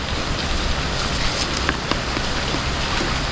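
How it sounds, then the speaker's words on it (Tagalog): Light drizzle by a river in windy weather, a steady close hiss of fine raindrops pattering on surfaces, with a few sharper drops standing out. "Medyo malakas po yung hangin, tapos may ambon."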